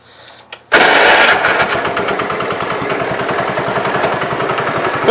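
After a short quiet moment and a click, a John Deere 110 lawn tractor engine catches and runs loud and near, settling into a steady, rapid chugging beat that continues to the end.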